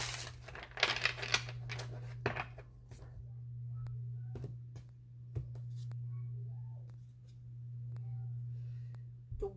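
Tarot cards being shuffled, a burst of dense riffling and snapping in the first few seconds, then scattered soft card taps and clicks over a steady low electrical hum.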